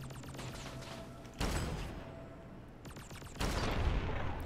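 Weapon fire in Fallout New Vegas, a grenade-like rail gun shot: two loud, booming blasts about two seconds apart, each cutting in abruptly over a rumbling, crackling game background, with no talk.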